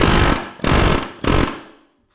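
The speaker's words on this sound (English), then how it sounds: "I'm just going to try and use the air hammer." Three loud, rapid bursts of a pneumatic air hammer rattling against metal, up close, driving out a bolt on a John Deere B tractor, each lasting about half a second, then silence.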